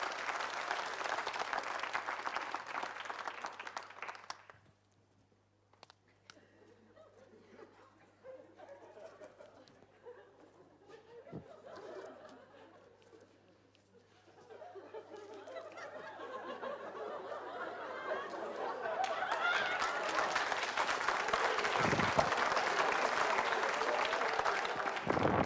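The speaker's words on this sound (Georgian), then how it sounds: "მაშასე აპლოდისმენტები ლაზერ შოუს" Audience applause at a New Year's concert for a laser show, with a sustained crowd clapping at the start, a quieter stretch with scattered murmur, then clapping building again loud and dense toward the end.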